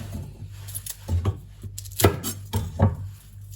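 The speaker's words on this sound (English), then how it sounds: "Then I'm gonna cut the shallot and the onion" A knife chops shallot and onion on a board, giving a close, uneven run of sharp knocks, some in quick pairs, with brief pauses between them.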